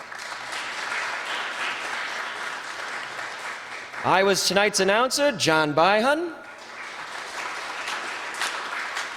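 Steady audience applause runs throughout, with a voice speaking briefly over it in the middle.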